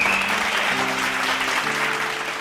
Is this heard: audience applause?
yes